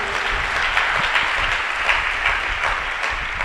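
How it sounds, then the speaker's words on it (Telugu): Audience applause during a church sermon, a dense, even wash of many hands clapping together, sustained at steady volume throughout. "కొట్టు చప్పట్లు."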